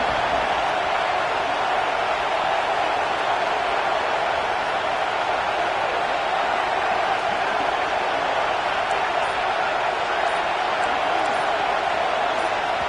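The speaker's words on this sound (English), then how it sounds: "This place is roaring, and it's going to be so hard to operate under these conditions." Roaring football stadium crowd at a game against UGA, a loud, unbroken wash of massed voices holding steady throughout with no distinct breaks.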